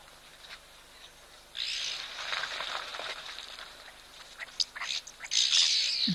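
Birds calling at a wildlife waterhole, sharp squawks and chirps bursting in after a quiet start and growing louder toward the end, startling animals nearby.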